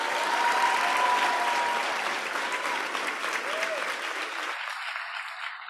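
An audience at a University of Johannesburg African Union model summit breaks into sustained applause, a dense wash of clapping that fades and cuts off toward the end.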